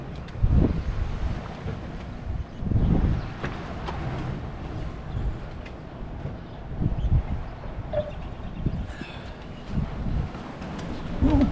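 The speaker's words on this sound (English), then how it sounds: "Windy." Steady wind buffets the microphone with rumbling gusts throughout, loud and continuous, with no voices.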